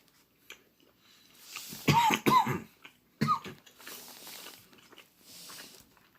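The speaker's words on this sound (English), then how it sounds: "I'm coughing a bit lately." A few sharp coughs in quick succession, close by, followed by a single cough a moment later, then quiet rustling.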